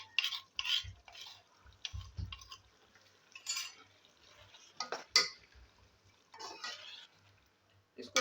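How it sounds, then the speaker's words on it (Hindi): Ginger garlic paste with ground cumin and coriander being stir-fried for chicken biryani, heard as intermittent scraping and stirring of a spoon against a metal pot with soft clinks, fairly quiet and close, with gaps between strokes. "अब इसमें हम अदरक लहसुन का पेस्ट और इसमें मैंने ज़ीरा और धनिया जो साबित होता है उसको मैंने इसके साथ ही पीस लिया था"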